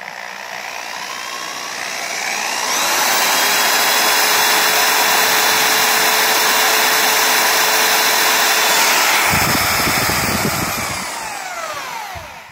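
A handheld drill spins an electric motor to generate voltage, giving a loud, steady whirring whine that swells up after a couple of seconds, holds evenly for several seconds, then shifts and winds down near the end.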